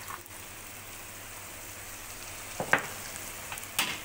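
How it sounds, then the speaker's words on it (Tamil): Crushed ginger and garlic frying with onions in oil make a low, steady sizzle, with a couple of sharper spoon knocks near the end; quiet and free of talk. "இடித்து வச்சுருக்க இஞ்சி பூண்டு ரெண்டுத்தையும் ஒன்றா போட்டு"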